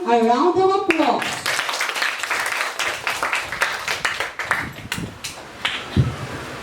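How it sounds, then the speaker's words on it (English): Debate audience applauding, a burst of dense clapping that starts right after a short spoken phrase and thins into scattered claps over several seconds, with faint voices underneath. "So we'll give him a round of applause."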